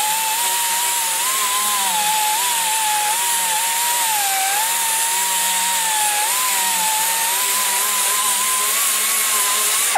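Air grinder with an abrasive roll porting an LT-1 small-block Chevy cylinder head, a steady high-pitched whine whose tone wavers slightly as the load shifts, loud and close, running continuously without talk.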